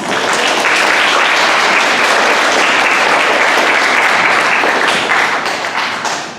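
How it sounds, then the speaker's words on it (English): A room applauds both debate teams at the end of a KPS versus Delbarton scrimmage in Atwood Hall, a full round of close, crisp clapping that holds steady and then tapers off at the end. "Can we get a round of applause?"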